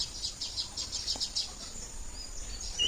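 Birds chirp and tweet in a Konkan farmyard where chickens are kept, light repeated high calls over quiet outdoor background with an insect-like hum.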